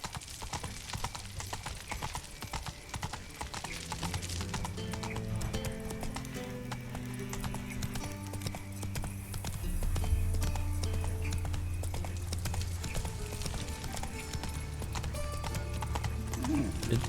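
Roach, a horse in The Witcher video game, trots and gallops with steady, rhythmic hoof clip-clops and an occasional whinny. Game music plays throughout, and someone talks over it.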